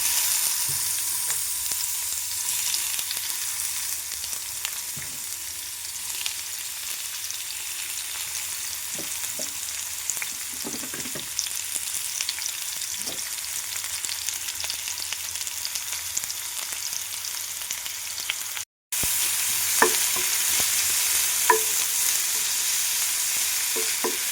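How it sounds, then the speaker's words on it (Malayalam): Onions sautéing in hot oil for a chicken and egg dish, a steady soft sizzle with occasional stirring clicks of a spoon against the pan, close and alone, with a brief dropout near the end. "ചൂടായ എണ്ണയിലേക്ക് ഉള്ളിയിട്ട് വഴറ്റണം."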